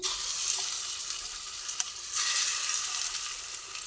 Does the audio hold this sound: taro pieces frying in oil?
yes